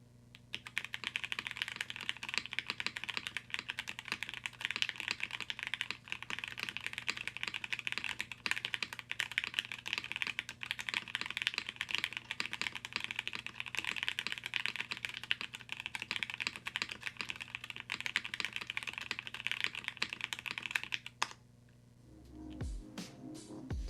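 Continuous fast typing on a Tiger 80 mechanical keyboard with an ABS plastic case, a dense stream of light plastic clacks close up, stopping near the end with a brief thump.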